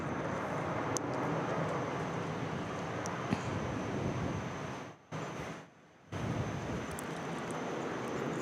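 A Velocity airliner departs Perth airport for Brisbane, its engines a broad, steady roar heard from a distance outdoors, with wind buffeting the microphone and brief drops in level partway through.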